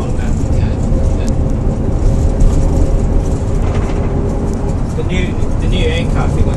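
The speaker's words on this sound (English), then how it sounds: "ISC's only a little motor, isn't it? 7-litre." Steady low rumble of the 7-litre Cisco ISC diesel in a MAN 22.360 truck running continuously, with voices talking over it.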